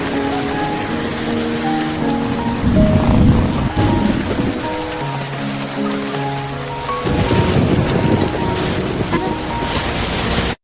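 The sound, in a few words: rainstorm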